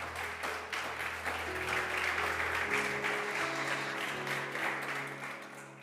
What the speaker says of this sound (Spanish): Démosle un fuerte aplauso al Espíritu Santo